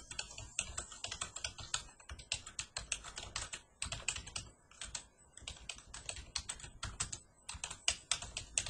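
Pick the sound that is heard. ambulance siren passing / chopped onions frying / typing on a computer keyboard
typing on a computer keyboard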